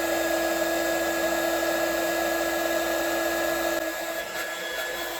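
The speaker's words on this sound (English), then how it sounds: "put some more heat in that plastic" A heat gun blows hot air onto the plastic of a Stihl BR600 backpack blower, a loud, steady, close whine with a constant hum that eases slightly near the end.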